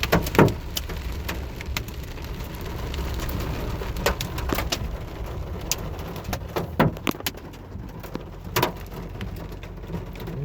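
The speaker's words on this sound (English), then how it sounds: "I'm talking serious hail. Up to golf balls now." Golf-ball-sized hail pounds down during a storm in Seaford, Virginia, a dense, constant patter broken by frequent sharp, loud cracks of stones striking hard surfaces nearby.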